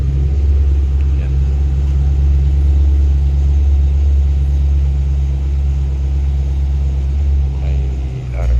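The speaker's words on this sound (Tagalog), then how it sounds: "Ilalabas na yung sasakyan ng boss." The boss's car rumbles steadily at low speed as it is driven out of a workshop, a constant close engine drone with faint clatter over it.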